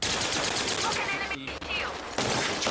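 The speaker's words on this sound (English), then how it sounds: "Trying to shoot through that smoke's a little bit crazy." Gunfire in an online shooter match, dense rapid shots crackling continuously and loud, briefly cut off near the middle before resuming.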